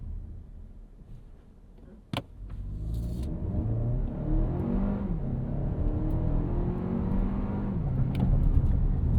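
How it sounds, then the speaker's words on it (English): A 2025 Lexus RX 500h hybrid SUV accelerates at full throttle from a standstill, its engine note climbing steadily through a long pull with a brief click near the start, heard from inside the cabin. "we're just going to mat the throttle and do a little bit of a 0 to 60 here"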